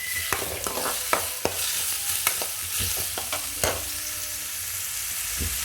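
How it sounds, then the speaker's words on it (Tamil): Chopped onions sauté in a hot pan for a soya chunk dosa, with a steady sizzle and repeated scraping, knocking stirs from a spatula, close up and without any voice. "வெங்காயம் நல்லா வதங்கி வரட்டும்."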